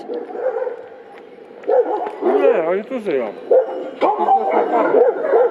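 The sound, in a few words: large dogs barking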